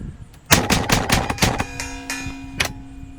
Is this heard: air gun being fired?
yes